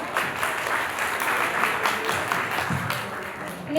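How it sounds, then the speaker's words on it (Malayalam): Guests at a betrothal ceremony applaud in a dense, steady wash of clapping that lasts the whole stretch, with a few voices faintly mixed in. "എല്ലാവരും കൈയടിച്ചേ"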